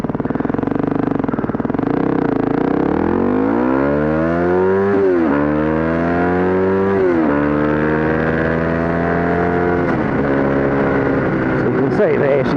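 Yamaha WR250R 250cc single-cylinder motorcycle accelerating up through the gears, engine note rising in pitch, dropping at each shift and climbing again, loud and close throughout.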